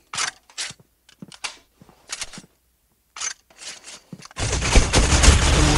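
Rapid bursts of gunfire from the Critical Ops video game ring out in short clusters separated by gaps, then a dense sustained volley of shots closes the sequence.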